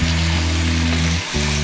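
Capsicum, onion and tomato frying in a pan for chicken shashlik, a loud, close, continuous sizzle over a steady low hum that briefly dips, no voices.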